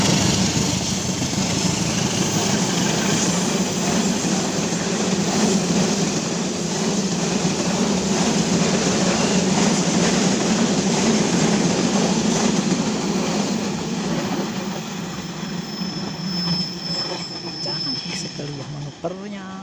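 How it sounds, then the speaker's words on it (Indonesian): The Kutojaya Selatan passenger train, hauled by a CC 203 locomotive, rumbles past loudly and continuously, wheels clattering with a faint squeal as it recedes toward Bandung. "Ini dia, akan melintas kereta api Kuto Jaya Selatan menuju Bandung dari Kuto Arjo."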